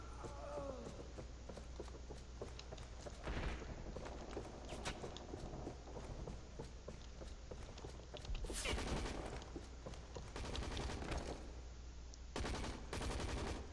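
Video game gunfire in ZMR, a quiet fusillade of distant sharp shots in irregular bursts, spiking louder near nine and thirteen seconds, with no talk.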